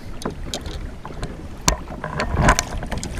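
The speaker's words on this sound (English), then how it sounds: "So Katie's over there paddling out." A kayak is paddled out on Lake of the Ozarks, with soft splashing paddle strokes and water drips in an irregular rhythm over wind noise, fairly close and moderate in level.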